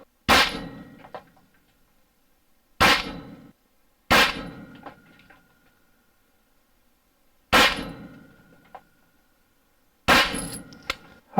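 Five sharp, loud shots from a 9mm AR9 pistol-caliber carbine firing Lehigh Defense 125 grain XD Supersonic rounds, spaced irregularly a few seconds apart, each with a brief ringing decay and quiet between.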